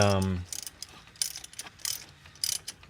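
A ratchet clicks in short bursts while bolts are snugged down during a tune-up on a 1988 VW Vanagon, close mechanical ticking after a brief voice at the start.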